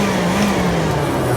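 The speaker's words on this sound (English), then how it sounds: "So, now is the point where you want to turn the blower on." A blower on a small, cheap homemade blacksmith forge, too powerful for the setup, runs as a loud steady whoosh with a low motor hum rising and holding, no voices over it.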